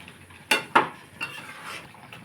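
Chicken tossed with ground coriander, cumin and garam masala in a pan: two sharp metal clanks of a spatula against the pan, then softer scrapes and knocks, close and sparse with quiet gaps.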